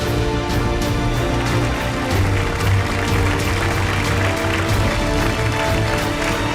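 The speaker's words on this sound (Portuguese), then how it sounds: "O mágico recebe os aplausos." An audience at a magic show claps for a magician's disappearing-assistant illusion, a dense, even patter of many hands sustained throughout, layered over background music.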